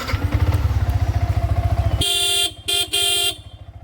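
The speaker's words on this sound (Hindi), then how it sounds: "R15 में भाई डबल हॉर्न आता है, तो भाई इससे काफ़ी ज़्यादा लाउड साउंड आती है हॉर्न की" Yamaha R15 V3 motorcycle engine idles with a steady throb before its double horn gives a loud close honk, a short break, then another longer blast.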